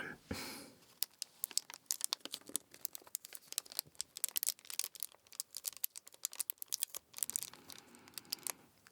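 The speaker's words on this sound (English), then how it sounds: "Some of the best crinkles." Crinkling, crackling handling of a crinkly material, heard up close as dense irregular bursts of sharp crackles with brief pauses, fairly quiet overall and with no talking.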